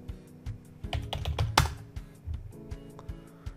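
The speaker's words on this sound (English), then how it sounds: "I type wrong password." A password being typed on a computer keyboard produces rapid, irregular clicks of keystrokes, close and fairly soft, with no talk over them.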